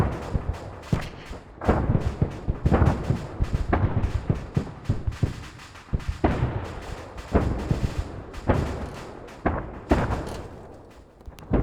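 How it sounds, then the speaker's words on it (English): Missiles and explosions in a video game battle: dense, loud booms and heavy thuds pile up in rapid, irregular succession, with sharp blasts breaking over a continuous low rumble throughout. "Yeah, there's a shit ton of missiles,"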